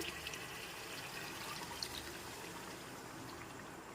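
Water is poured into a pan of marinated chicken before boiling, producing a faint, steady wash of flowing, trickling liquid.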